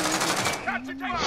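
Rapid gunfire rattles through a window in a first-person shooter video game, a dense burst of close, loud shots over the first half second, with a voice talking over the tail.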